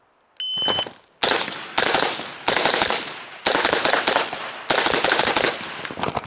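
Gunshots ring out during a shooting drill on a range, a few loud single cracks followed by several rapid strings of closely spaced shots, each burst fading into echo before the next.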